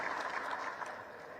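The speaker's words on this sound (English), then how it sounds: "Let's clap for NPA for putting this together." Audience applause at a national development plan formulation conference, a dense, steady clatter of many hands clapping together throughout, fairly even in loudness with no voices over it.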